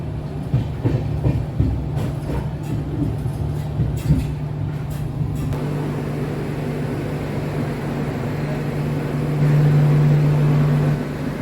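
A tourist train pulls out of New Mal Junction toward Alipurduar, giving a steady rumble and rolling clatter with a constant low hum. Near the end a brief louder tone rises.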